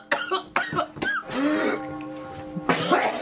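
A series of harsh, wet coughs after eating an extremely hot bar of about 3 million Scoville units, close and loud, with a few short bursts followed by a longer strained hacking stretch.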